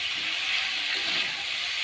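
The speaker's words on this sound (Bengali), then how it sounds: "এবার আমি যেটা করছি সেটা হচ্ছে আলুটার ফুলকপিটা যে ভেজে রেখেছিলাম সেটা আমি ভালো করে এখানে নাড়াচাড়া করে দিচ্ছি" Fried potato and cauliflower pieces being stirred in oil in a pan, heard as a steady, close, bright hiss and sizzle that holds at an even level throughout, with no talking.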